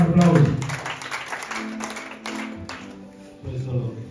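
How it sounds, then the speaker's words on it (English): A church congregation in the Gambia applauds their pastor as he is called up, a broad wash of clapping with voices mixed in that swells near the start, eases, then picks up again. "Let's give him a round of applause."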